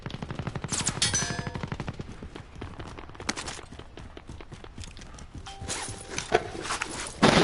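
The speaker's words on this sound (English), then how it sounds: "Getting shot at from the bottom there." Rapid automatic gunfire in a shooter video game, sharp repeated shots in fast bursts, near and loud, with scattered single cracks and footstep-like clatter between volleys.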